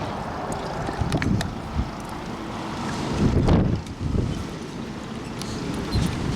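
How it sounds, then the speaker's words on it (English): Gusty wind buffets an outdoor microphone beside water in a sheltered lee, with rumbling bursts swelling and fading, strongest around the middle. "It is a windy day."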